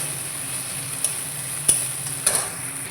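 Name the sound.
stirring chopped tomatoes frying in a pan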